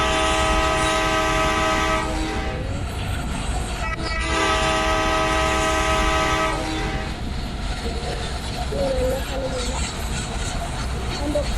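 A train sounds its horn near a bridge in two long, loud, sustained blasts separated by a brief gap. A continuous rumble of the running train continues underneath.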